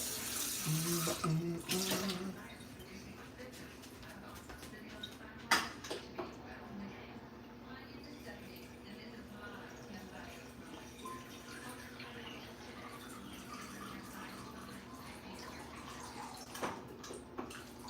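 A tap runs fresh water in a steady, unbroken stream under faint background sounds, with a louder splash at the start and a few clicks and bumps along the way.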